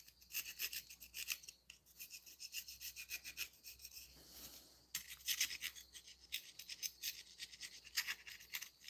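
Old gasket material scraped off the cylinder head of a 1996–2005 Chevy Astro with gentle, even strokes, a rapid rasping scratch repeating over several seconds, close and soft with a short pause midway.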